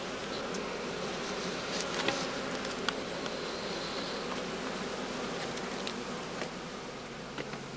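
Honey bees buzz steadily around a straw skep during an inspection, a dense continuous drone with faint individual insects passing close now and then.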